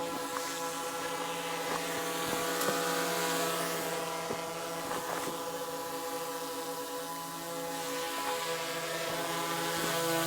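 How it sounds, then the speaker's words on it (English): A DJI Mavic 3 drone flies over the Snake River Canyon, its propellers giving a steady, even hum with a dense buzzing drone that holds level throughout, with no speech. "There is the Mavic 3, and it is amazing how quiet this drone is."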